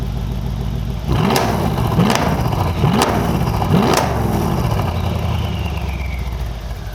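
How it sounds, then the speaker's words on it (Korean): A Mercedes-AMG GLE 63 Coupe V8 engine in sport mode revs hard four times in quick succession over a steady idle, each blip a loud, throaty exhaust roar. "스포츠 모드를 놓은 상태에서 배기음 영상 한번 들려드리고"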